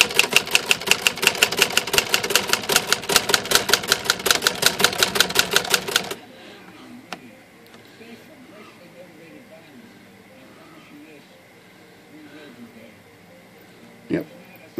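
Keys struck on a Remington typewriter in a fast, even run of sharp clacks for about six seconds, followed by a long quiet stretch broken by a single loud clack near the end.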